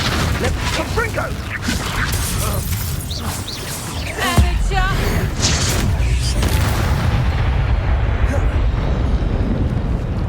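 Fiery explosion spells blast repeatedly in the Hogwarts Legacy video game, deep booms and rumbling crackle filling the mix, with a voice speaking over the first half and a heavy hit near the middle.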